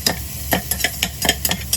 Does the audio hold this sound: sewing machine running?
no